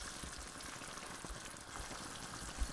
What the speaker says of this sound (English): it's time to add the seared mutton chops into this gravy